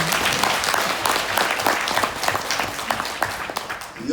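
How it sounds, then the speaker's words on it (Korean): Audience of women business leaders at a Jeju economic forum lecture applauding steadily, dense continuous clapping from a room full of people with no speech over it. "이런 때는 박수 한번 쳐야 돼요"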